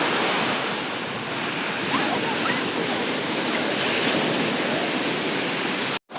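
Bay of Bengal surf at Ramapuram Beach roars continuously, with waves breaking in a loud steady wash mixed with wind buffeting the microphone, cut off abruptly near the end.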